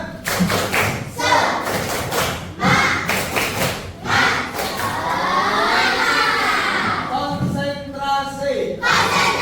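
A classroom of students in an Indonesian school lesson performs a rhythmic spirit clapping chant, with loud, steady group claps and thumps at first, then shouted chanting voices from the whole class, close and energetic throughout.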